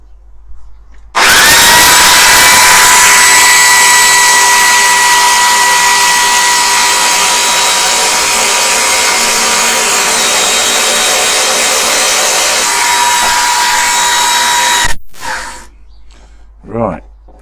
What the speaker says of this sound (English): I said I was going to drill that piece a bit